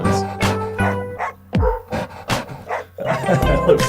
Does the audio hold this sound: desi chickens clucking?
no